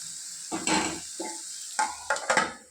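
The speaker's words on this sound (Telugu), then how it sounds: "ఈ కూరగాయ ముక్కలన్నీ కూడా బాగా మగ్గనిద్దామండి కొద్దిసేపు మూత పెట్టి మగ్గిద్దాం" Chopped vegetables and tomato cooking under a lid in a pan for masala noodles, with a steady close sizzle and a few clinks and scrapes from the lid or a utensil.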